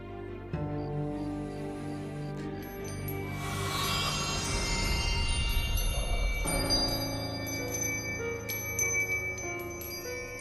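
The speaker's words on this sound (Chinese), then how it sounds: "是妖铃声" An eerie bell rings out in a period drama scene, with shimmering metallic tones that swell into a dense wash and then ring on over a sustained, ominous backdrop.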